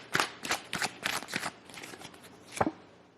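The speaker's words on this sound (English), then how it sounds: "I'm not used to shuffling like this." Tarot cards shuffled by hand in a run of crisp riffling bursts, five or six close rapid snaps followed by a pause and one final sharp flutter, loud and near with no talk over it.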